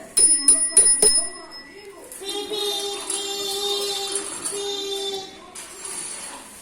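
A temple bell is rung near a home, with several quick bright strikes at the start followed by a sustained ringing tone that fades out. Voices are heard faintly alongside.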